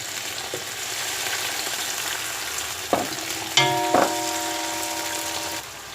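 Chopped onions and tomato fry with a constant sizzle in a pan while a utensil scrapes and clanks against the metal a few times, one knock leaving a brief ringing tone.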